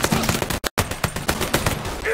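Rapid bursts of gunfire in a Mafia III shootout, sharp repeated shots crackling loudly and close, with one brief silent gap partway through.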